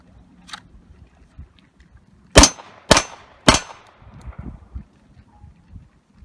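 Three sharp handgun shots fired on a training range during a shooting drill, evenly spaced about half a second apart, loud and close, with quiet shuffling before and after.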